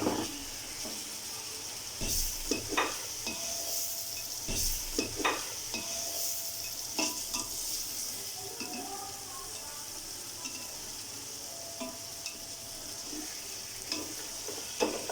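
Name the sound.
mutton frying in a pot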